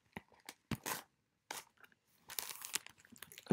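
Scissors snip and tear open the foil wrapper of a Pokemon Evolutions trading card pack, giving close, crisp crunching and crinkling bursts in short irregular bursts, with no talking.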